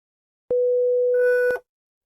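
A steady Web Audio oscillator tone holds for about a second, then a brighter, buzzier second tone briefly overlaps before both cut off abruptly.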